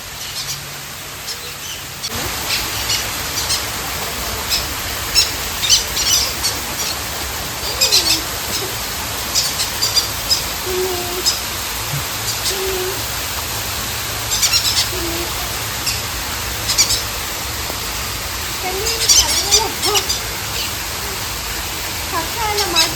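A bird resembling a cockatiel calls at a pet house, giving scattered short chirps and whistles throughout, moderately near, over a constant background hiss.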